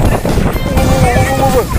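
Strong outdoor wind buffets the microphone while a dragon kite is flown, a loud continuous roaring rush with voices faintly mixed in beneath it.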